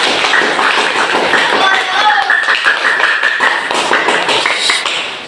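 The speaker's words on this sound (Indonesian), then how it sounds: "Tepuk tangan kelompok 4." Schoolchildren in a math classroom clapping for a classmates' group, a loud close burst of quick rhythmic claps and taps with some voices mixed in, lasting a few seconds.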